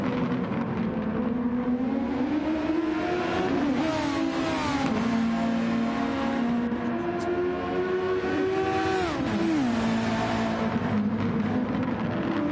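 Race car engines, including an Acura, roar in a sim racing endurance round at Sardegna, with two or more cars close together, their pitch rising and dropping through gear shifts and corners, loud and continuous with no talking.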